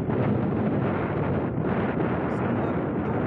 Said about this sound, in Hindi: तेज़ हवा की जो आवाज़ें हैं